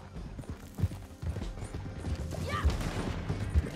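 Horse hooves clip-clop in Red Dead Redemption II gameplay, a loose run of soft thuds under a steady din of game sounds and creaking tack, with a short whistle-like tone near the middle.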